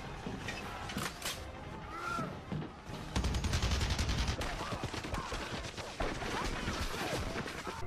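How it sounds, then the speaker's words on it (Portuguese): Rapid bursts of automatic gunfire in the Rainbow Six Siege video game, dense and loud crackling shots in close succession with heavier booms midway, mixed with voices talking excitedly. "ele deu 50 tiros"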